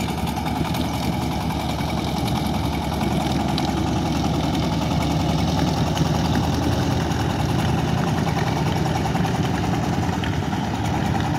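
A fishing boat's motor engine on the Padma river drones steadily and loudly throughout, a continuous mid-to-low rumble with no pauses and no voices.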